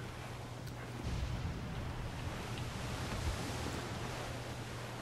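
Open-sea waves in the video game Assassin's Creed IV Black Flag form a steady, rushing wash of water with a low engine-like hum underneath, continuous and moderately loud with no voices.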